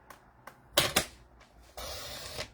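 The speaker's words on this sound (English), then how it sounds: "Let's use my trimmer to cut these apart." A paper trimmer cuts pieces of paper apart up close: a few sharp clicks and snaps, then a quiet scraping slide of the blade across the sheet.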